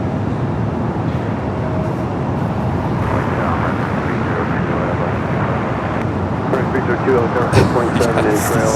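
At Los Angeles LAX airport, a jet gives off a continuous broad roar from a distance, with faint background voices and a few brief clicks toward the end.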